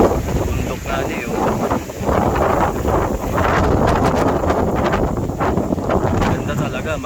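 Strong wind buffets the microphone with a constant loud roar and gusts at a mountain view deck in Bulacan, with people talking faintly underneath.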